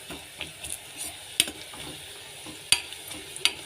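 Food fries in a pan while being stirred, a low continuous sizzle broken by several sharp metallic scrapes and clinks of the spoon, heard close with no speech.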